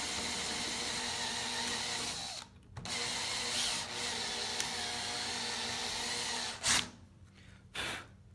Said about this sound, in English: another few turns of the drill and it'll break through